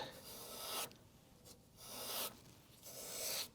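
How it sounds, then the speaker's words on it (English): Light filing on a Steinway Model B grand piano hammer, with three long, soft rasping strokes separated by brief pauses, close and quiet. "So just a tiny bit of light filing"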